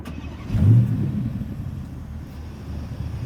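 2020 Porsche Panamera GTS engine starting: a short crank catches into a loud rev flare that quickly settles into a steady low idle rumble nearby.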